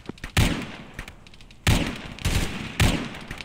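Video game gunfire: several sharp shots crack out in quick succession, with loud bursts separated by short gaps and softer clicks between them, with no talk.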